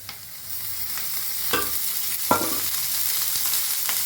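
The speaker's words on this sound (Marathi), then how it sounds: "हलवून भाजून घेऊया कांदा" Onion frying in a little oil, stirred in a pan for a dhaba-style egg masala: a continuous close sizzle broken by a few sharp scrapes of the spatula, with no talk.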